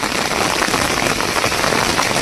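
Heavy rain pours down in a dense, loud, unbroken hiss, drumming steadily on surfaces nearby during a fishing outing.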